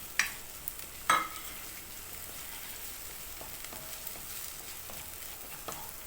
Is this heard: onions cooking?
yes